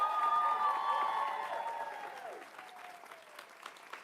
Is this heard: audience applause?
yes